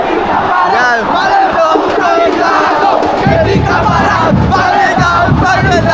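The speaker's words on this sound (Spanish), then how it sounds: "vamos a hacer ruido, vamos a hacer barullo." Brazilian football ultras in a packed stadium chant and roar together, a loud, continuous wall of massed voices with rising shouts and a deeper swell of noise partway through.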